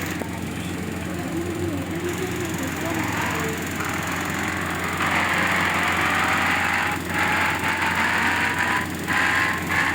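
A KTM motorcycle engine runs close by with a loud, buzzing, high-pitched drone that swells and rises in pitch partway through as it revs.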